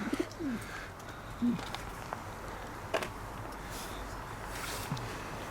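Pigeons coo softly in a loft or breeding setting, with a few low throaty calls spread across the stretch over a steady background hum, moderately distant and fairly faint, with no talking.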